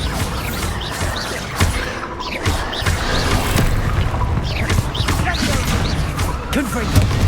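Bombarda blasting spells in Hogwarts Legacy go off in a rapid series of loud, punchy explosions and crashes amid combat clatter, close and continuous, with voices in the fray.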